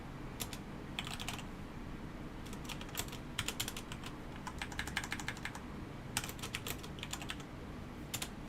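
Steady fast typing on a computer keyboard while writing a while loop in a programming lecture, heard as clustered bursts of crisp clicking keystrokes with brief pauses, close and moderately loud over a constant low hum.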